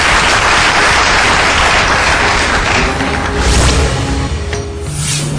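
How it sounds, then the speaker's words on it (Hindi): Studio audience gives a loud, sustained round of applause to welcome a guest astrologer onto a Hindi television talk show, a dense wash of clapping that continues without talk. "जोरदार तालियों से स्वागत कीजिए गुरुदेव का।"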